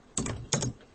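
Two quick bursts of keystrokes on a computer keyboard, sharp close clicks alone in a quiet room during macro editing in CorelDraw.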